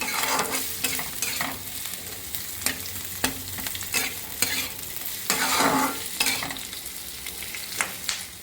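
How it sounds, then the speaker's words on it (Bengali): Eight to ten garlic cloves and onion frying in a kadai for masala paneer, a continuous sizzle broken by repeated scraping stirs of a spatula, close and alone. "ওর মধ্যে 8 থেকে 10 কোয়া রসুন দিলাম, দিয়ে আবার নাড়াচাড়া করে নিলাম"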